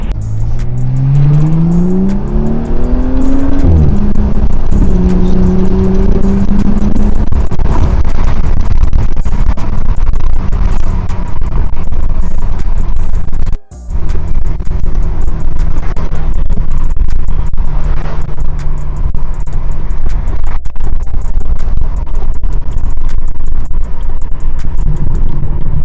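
A Dinan S3-tuned BMW M235 pulls hard on an open highway, engine note climbing through the revs with quick upshifts, loud and continuous cabin drone with a brief gap midway.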